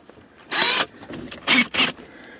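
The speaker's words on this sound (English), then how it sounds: "pre-drill this one" A power drill pre-drills a hole in metal while a Jeep AX5/AX15 shifter handle is removed in the vehicle, in three short, loud whirring bursts separated by brief pauses.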